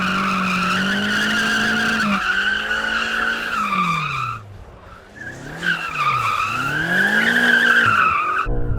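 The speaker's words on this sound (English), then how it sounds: "Good thing about this car, to drift it, you have a two-wheel drive mode." A sports car with a two-wheel drive mode drifts, tires squealing loudly in long wavering howls that fade briefly midway, then swell again before cutting off abruptly.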